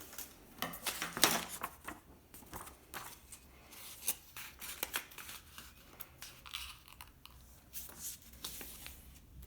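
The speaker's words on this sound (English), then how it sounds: "cutting off the excess paper" Scissors trim excess paper from a folded sheet for a paper rose, making faint, close snips and crisp paper rustles in an irregular patter against a quiet background.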